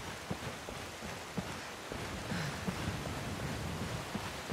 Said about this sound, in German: Es irritiert mich, dass es regnet, aber es regnet doch irgendwie nicht